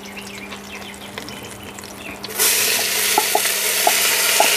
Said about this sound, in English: and I'm going to drop my onions in